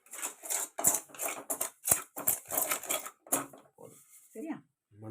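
Semolina (rava) dry-roasting in a pan, a utensil scraping and stirring it in quick, uneven strokes that sound close and fairly loud, thinning to softer clinks near the end, with a voice talking over it.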